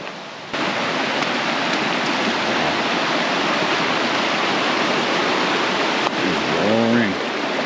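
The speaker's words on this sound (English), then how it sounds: "And it looks like I gotta cross a freaking creek here." A roaring creek on a hiking trail at a coastal preserve with mini waterfalls, a loud, dense, continuous rush of water that starts abruptly and stays steady, with a brief voice near the end.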